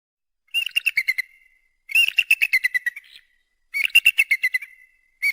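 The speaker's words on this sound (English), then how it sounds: "Eagle." An eagle calls in three bursts of rapid, high, piercing chirps, each burst a quick series of sharp repeated notes trailing off, loud and close with silence between.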